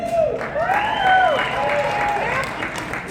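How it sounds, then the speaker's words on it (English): Comedy show audience applauding, a brief burst of crowd clapping mixed with cheering and voices. "everyone will stand and applaud when you mention Jeff Dixon's name"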